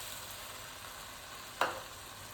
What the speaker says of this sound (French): Je vais faire revenir ça